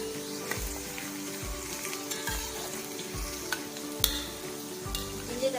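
Onions sautéing for chicken biryani, a steady close frying sizzle broken by regular scraping stirs of the spoon roughly every half second, with occasional small clinks.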